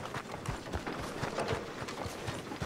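Horse hooves clip-clopping in Red Dead Redemption 2, a steady run of hoofbeats drawing nearer, fairly loud and continuous over a faint background.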